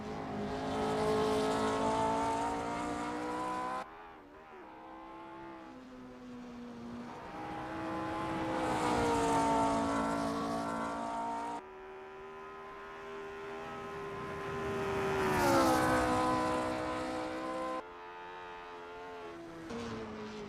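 Lotus Type 25 race car engine on the Kyalami circuit in the Assetto Corsa racing game, a loud rising and falling engine note with repeated upshifts and downshifts, steady and close with no talking.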